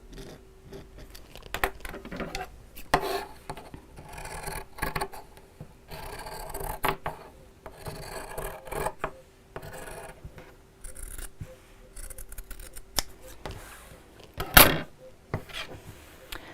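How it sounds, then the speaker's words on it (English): Scissors cutting fabric pieces for a simple sewn storage pouch, a soft intermittent rasping snip repeated in close bursts, with one sharper louder cut near the end and no talking. "you can just go straight into cutting it out"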